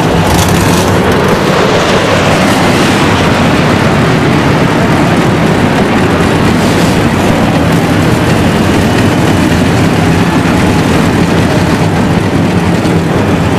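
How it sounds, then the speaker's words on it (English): Aircraft roar over a stock-car race track during a pre-race flyby at the 2002 Virginia 500, a loud, steady broadband rumble that fills the whole stretch with no break. "when those planes just flew by"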